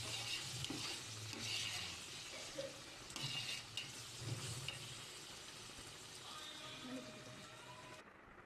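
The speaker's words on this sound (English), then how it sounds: "I'm scraping off the bottom every time it gets sticky" Tomato masala for restaurant-style chicken biryani being scraped off the bottom of a pot, heard as quiet, intermittent scraping strokes over a faint low sizzle.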